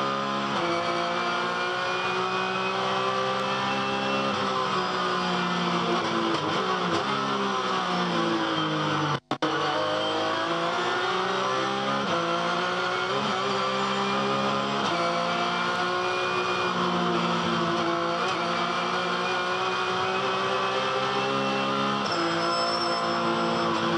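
A high-revving Porsche Carrera Cup race car engine screams continuously at Bathurst, pitch rising and falling through gear changes and corners, heard from inside the car with a brief dropout.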